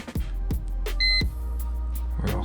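A car radio in a Chrysler Crossfire gives a short steady electronic beep after the ignition is switched on, heard alone amid a few faint clicks and handling knocks.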